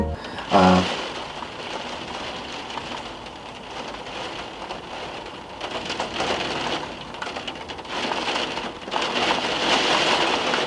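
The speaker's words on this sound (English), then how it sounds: "this rain is actually perfect for some B-roll." Steady rain patters on surfaces with a constant hiss, growing slightly heavier toward the end, after a brief knock at the start.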